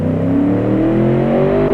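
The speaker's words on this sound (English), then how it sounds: "Shouldn't sound too incredible because, well, it's a fucking UPS truck." A UPS truck's engine in the Automation game revs up loudly and steadily, a droning tone climbing gradually in pitch as it accelerates, with no one talking over it.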